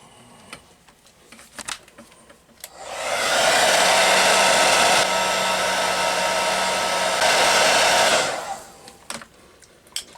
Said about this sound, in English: So I'm probably going to speed the hair dryer parts up